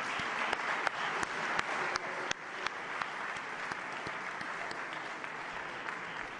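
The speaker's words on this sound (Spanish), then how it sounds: "os solicito que aplaudamos de nuevo a José Luis San Pedro en su memoria" Sustained applause from an assembled audience in memory of José Luis San Pedro at a Spanish political event, dense steady clapping with a few sharper individual claps standing out, holding at an even level throughout.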